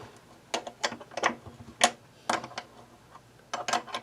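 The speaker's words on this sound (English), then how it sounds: "I usually use the 10mm wrench side, and I snug these tuners down" Metal wrench, 10mm end, tightening the tuner nuts on an Ovation Applause guitar with a crackle finish, making a series of sharp clicks and ratchety taps in short bursts, close up and fairly quiet.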